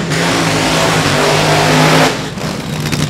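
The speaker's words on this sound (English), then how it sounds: "All right, Top Fuel firing up." A Top Fuel dragster engine fires up at a final-round drag race, a loud, dense, continuous roar holding steady for about two seconds before easing slightly, with low engine harmonics throughout.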